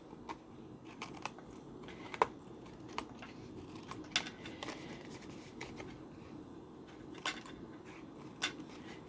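Scissors snip through card stock during a paper crafting project, a few small sharp clicks and rustles scattered among quiet handling noises, close and faint with no talk.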